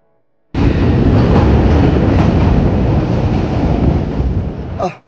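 Passenger train on the Rajshahi to Rohanpur line, heard as a steady, loud broadband rumble and rush of rails and wind that starts abruptly and holds constant for several seconds before cutting off.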